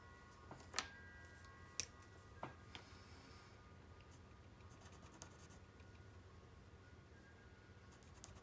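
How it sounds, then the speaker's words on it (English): Pen marks drawn as circles on a surface, a few sharp scratchy strokes and taps spaced over several seconds, faint and close against a quiet hiss. "I'm just going to draw circles here."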